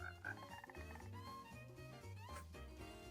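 Frogs croak in the video game Minecraft, a soft pulsing run of low croaks under a busy musical background, faint with no voices.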